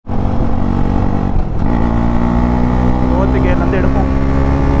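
A Husqvarna Vitpilen 250 motorcycle engine drones loud and steady during a ride, with a brief dip in pitch as the rider shifts, all close to the microphone.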